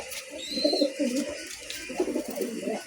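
Racing pigeons coo at a bird market, a series of soft, rolling low coos repeating close by, with no talk over them.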